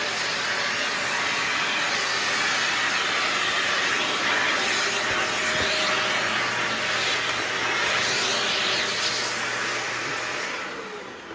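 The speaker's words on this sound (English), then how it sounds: "But you just do your vacuuming like this" A Dyson Ball Animal 2 vacuum cleaner running continuously at close range, a loud, steady airy roar with slight shifts as it moves over the floor, fading a little at the end.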